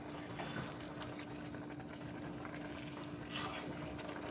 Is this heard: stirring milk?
yes